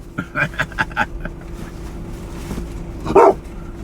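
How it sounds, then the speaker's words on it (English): A dog barks at passing Corvettes several times in a quick burst, then again after a short pause, fairly close and loud. "Hey, Harry, don't be barking at the nice cars."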